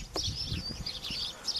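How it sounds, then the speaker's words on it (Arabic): Birds chirp in acacia (talh) trees in dense wild vegetation, several short high tweets and calls scattered over soft background rustle, fairly close. "اسمعوا اصوات الطيور"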